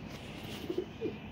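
Pigeons coo a few times, soft low calls against steady background noise, in a setting where pigeons are kept and flown for sport.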